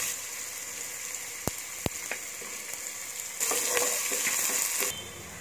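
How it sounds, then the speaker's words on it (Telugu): Chopped onions and green chillies sizzle in hot oil for a carrot paneer rice, a steady close frying hiss with a couple of sharp clicks early on, growing louder and busier near the end before easing back. "కట్ చేసి పెట్టుకున్న ఆనియన్స్ పచ్చిమిర్చి చిలకలు వేసి ఫ్రై చేసుకోవాలి"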